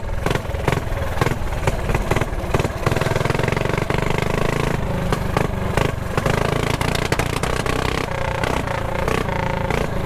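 A mini bike's small engine, running rough after clutch trouble, chugs loudly and continuously with an uneven, sputtering clatter and repeated revving surges, close by.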